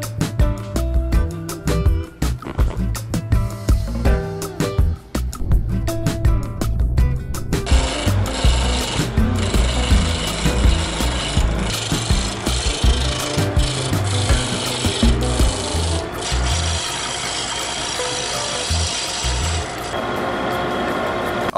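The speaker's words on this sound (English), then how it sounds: "the abdomen is now ready to turn on the lathe" A wooden bee abdomen turns on a lathe while a tool scrapes and rasps against it, a steady close-up grinding texture that starts after a stretch of clattering workshop noise and carries on alone.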